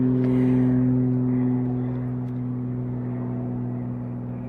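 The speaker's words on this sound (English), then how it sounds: "so there's a plane passing overhead" A propeller airplane near an airport drones steadily overhead, a low humming engine tone that slowly fades slightly, with no talking.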